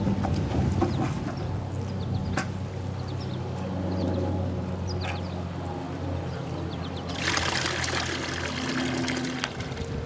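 Water gurgles and trickles steadily as a pool vacuum hose fills at a return jet, a constant close flowing wash that brightens into a hissier rush near the end.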